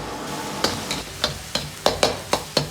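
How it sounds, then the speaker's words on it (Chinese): Diced tomatoes stir-fried in scallion oil over medium heat, with a soft continuous sizzle broken by about nine evenly spaced scraping strokes of a spatula against the wok, close and clear. "保持中火，把西红柿炒出颜色。"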